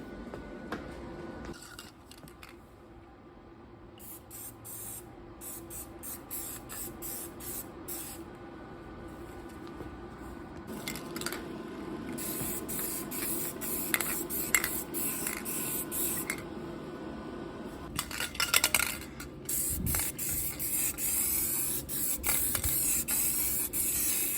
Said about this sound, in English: I'll throw some paint on there.